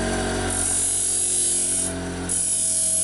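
Hand grinding or filing on the solid graphite tip of a broken fishing rod during a repair, a steady continuous abrasive rubbing that carries through the whole stretch and eases briefly near the end.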